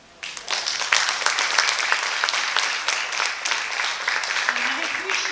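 An audience bursts into sustained applause, dense clapping that swells quickly and holds loud and steady, with a faint voice briefly surfacing near the end.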